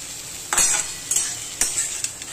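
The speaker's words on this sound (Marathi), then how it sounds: "नुसतं असं हलवून घ्यायचं म्हणजे झालं।" Boiled potato in a frying pan is stirred with a utensil, making four distinct scraping clinks about half a second apart over a soft, constant sizzle. No one speaks.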